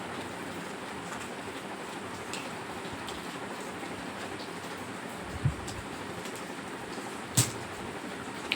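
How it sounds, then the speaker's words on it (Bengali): Steady rain patters outside, a soft continuous hiss with a couple of sharper drips or knocks standing out near the end. "বাইরে বৃষ্টি হয়েই যাচ্ছে এখন"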